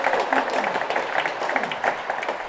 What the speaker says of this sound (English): Crowd gives that rally a much deserved round of applause.